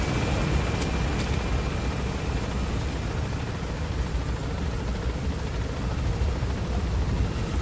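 A helicopter lifts off in the video game Metal Gear Solid V: The Phantom Pain, its dense rotor and engine roar steady and loud throughout.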